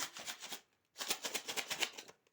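Crinkly plastic jewelry packaging torn and rustled open in two dense bursts separated by a brief pause, close and fairly loud with no talking.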